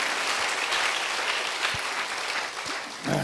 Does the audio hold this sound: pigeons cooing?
no